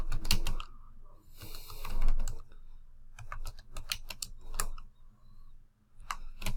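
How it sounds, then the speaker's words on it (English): Keys clatter on a computer keyboard as a note is typed into a grade change request form, with quick close taps arriving in uneven bursts and short pauses between them. "So you can type a note in here."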